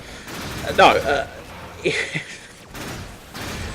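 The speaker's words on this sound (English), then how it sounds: "Bang! Exploding barrel. Exploding barrel. Let's shoot the camera for no good reason." Video game gunfire and an exploding barrel: a couple of sharp, loud bursts of shots and a blast, separated by short gaps, over steady background noise.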